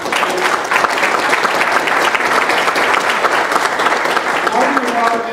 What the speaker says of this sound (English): So I want to give a round of applause to Marcus,